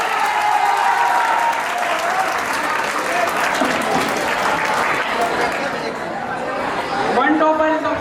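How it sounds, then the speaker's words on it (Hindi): Audience applause at an award ceremony for class toppers, heard as sustained, dense clapping with crowd chatter and some laughter mixed in. A voice speaks over it, and the clapping eases near the end. "आप ताली क्यों नहीं बजा रहे? चलिए बजाइए जल्दी फटाफट."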